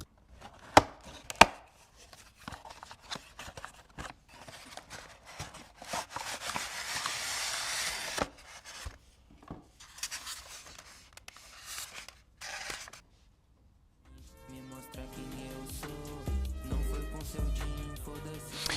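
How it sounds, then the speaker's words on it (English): A 1996 Necromunda Goliath box set is opened up close, with crisp cardboard and plastic scraping, rustling and sharp tapping clicks. Softer handling and a low rumble follow near the end. "I'll leave you with a little ASMR opening of a 1996 Goliath box set"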